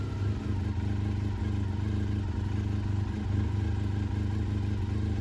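A freshly refreshed Honda RVF400 motorcycle engine idles steadily in a workshop, a close, even, low-pitched mechanical thrum with a faint whirring clatter and no revving.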